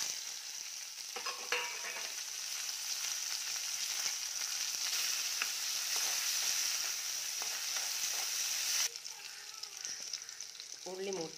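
Crushed shallots and coconut pieces frying in hot oil for a sprouted chickpea stir-fry, a loud dense sizzle held steady for several seconds, with stirring scrapes near the start and after it drops at the end.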